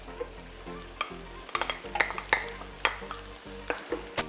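Carrot drops into a frying pan with tomato paste and gets stirred, a continuous sizzle punctuated by quick, close scraping and clacking of the utensil against the pan.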